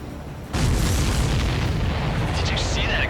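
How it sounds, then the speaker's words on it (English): A supply ship blows up in the jet combat game Ace Combat 7, a sudden loud broadband boom that starts abruptly and rumbles on heavily for several seconds, with faint higher whooshing and whistling tones layered over the sustained roar. "Did you see that explosion?"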